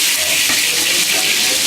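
Garlic hitting about three tablespoons of hot oil in a preheated wok over a propane-fired stove, a loud, steady, close sizzle with a brief burst partway through, with no voices.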